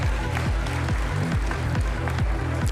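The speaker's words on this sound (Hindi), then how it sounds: "जोरदार तालियां।" Applause at a school award ceremony for an Urdu municipal school, dense clapping running throughout and mixed with a repeating low rhythmic thumping, loud and continuous.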